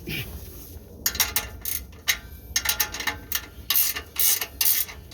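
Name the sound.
ratchet wrench turning while installing a truck exhaust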